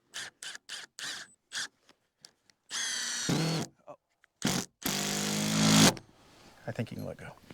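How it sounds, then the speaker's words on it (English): A cordless drill driving a screw into a wooden fence post on a corral build sounds in two loud, sustained whirring bursts, with short revs between them and people talking nearby. "The drill and driver."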